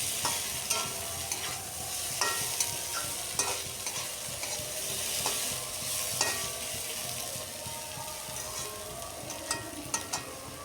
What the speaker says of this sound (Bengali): এইভাবে আলুটাকে ভেজে নিলে আলুটাও খুব সুন্দরভাবে ভাজা ভাজা হয়ে যাবে।